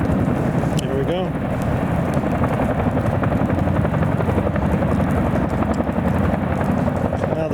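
Chinook twin-rotor helicopter manoeuvring overhead, its rotor blades thudding in a rapid, loud, continuous beat over a deep engine roar that fills the whole stretch.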